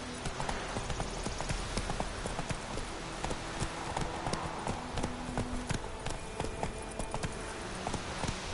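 Hoofbeats of the horse Roach from The Witcher 3 galloping steadily at a fast, rhythmic clip, close and continuous over background game ambience with no talk.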